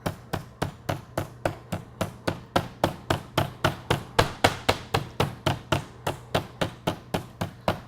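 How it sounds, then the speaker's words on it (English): A meat hammer tenderizing and flattening a cut of meat, a fast regular series of sharp pounding thuds, about three per second, close and steady with no talk. "just with a meat hammer, we're not going to get it completely flat"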